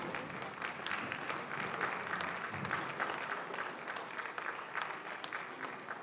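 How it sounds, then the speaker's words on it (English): A standing ovation at an award ceremony, with steady crowd applause of even density holding at a moderate, somewhat distant level throughout, with no voices standing out. "let the applause continue until she gets to where she will receive the award"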